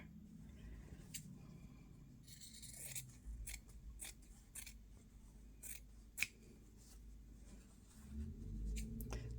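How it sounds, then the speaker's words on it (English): Scissors cut fabric with a series of quiet, close snips at irregular intervals, with light rustling of cloth between cuts. "I want to cut it about like that to fit in that spot there"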